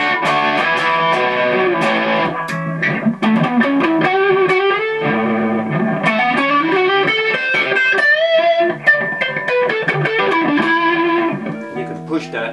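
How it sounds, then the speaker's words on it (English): Electric guitar played through a Boss JB-2 Angry Driver pedal on its rich, smooth distortion setting, sustained chords and bending single notes with a thick saturated tone, loud and close, no talking. "The Angry Charlie is a distortion. It's very rich and creamy."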